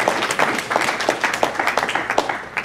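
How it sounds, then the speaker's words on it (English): A church congregation claps in a loose, moderately loud round of applause, with individual claps audible as uneven bursts rather than a solid roar. "with a round of applause"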